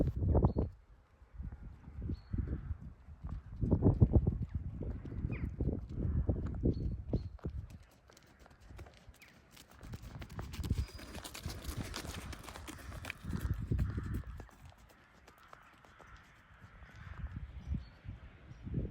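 A horse ridden through a serpentine over poles in a school, hooves clip-clopping in uneven bursts of dull thuds, with a quieter stretch of rustling in the middle before the hoofbeats return.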